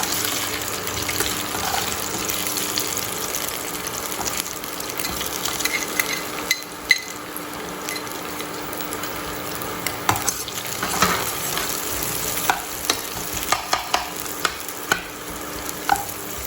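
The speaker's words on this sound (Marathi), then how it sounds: "तर आता आपण याच्यामध्ये कांदा घालून घेऊयात" Onion sautéing in a pan for veg hakka noodles gives a steady close sizzle and crackle, with scraping stirs and sharp spatula taps on the pan that grow more frequent near the end; no talking.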